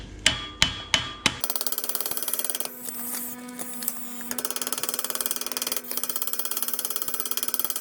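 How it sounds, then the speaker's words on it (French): Hand hammer striking sheet-metal body panel of a BMW 325i being stretched and shaped, first a few loud, ringing blows, then a rapid, steady stream of lighter metallic taps in a workshop. "Donc plus que 2000 coups de marteau."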